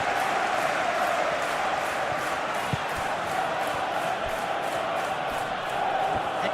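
A simulated stadium crowd at an Arsenal vs Burnley Premier League match in PES 2021 cheers and roars in a steady, dense wash of noise that holds at an even level throughout.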